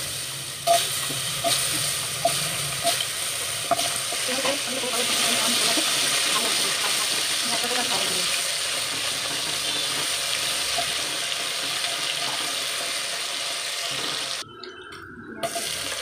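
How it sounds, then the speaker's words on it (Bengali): Potatoes fry in hot oil in a pan for a fish curry, a steady close hiss and sizzle with a few clinks, running continuously before a brief dip near the end. "আলুটা ভাজছি।"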